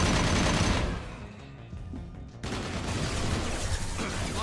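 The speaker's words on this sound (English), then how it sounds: "Firing an impact shot" Heavy video-game weapon fire in Mass Effect Legendary Edition 2, an impact shot burst rolling into dense gunfire, loud and close, briefly dropping away before another sustained volley of shots and blasts.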